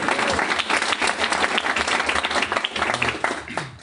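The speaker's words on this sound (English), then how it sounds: "If we could give those guys a round of applause" An audience at a marketing meetup claps in steady applause, many hands close and dense, fading slightly toward the end.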